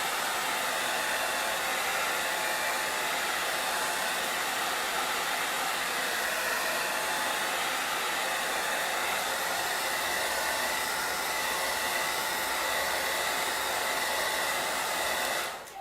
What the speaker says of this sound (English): I'm gonna use my blow dryer to dry my paste.